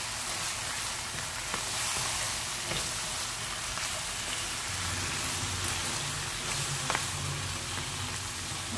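Vegetables cook in a pan with a little water, including old Baguio beans, for a quick pancit. A loud, continuous sizzle and crackle runs throughout, like rain, with faint stirring clicks and no talk.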